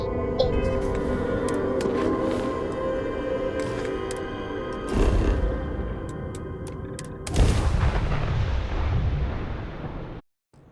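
Companion gunfire in the video game Starfield: booming shots and blasts ring out over a constant electronic game hum, with two heavier bursts near the middle and the end before everything cuts off.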